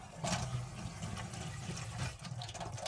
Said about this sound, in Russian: Давайте мы проверим по нашему обыкновению напор воды.